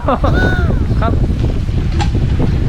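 Strong wind gusts into a storm, buffeting the microphone in a constant low roar while voices talk and call out over it at a rural Hmong wedding gathering in Thailand.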